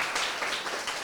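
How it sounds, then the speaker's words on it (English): An audience at an Asian American storytelling show applauds steadily, a dense even clapping throughout, moderately loud, with no talk over it. "thank you so much, Gtush, and please give another round of applause for Gtush's story."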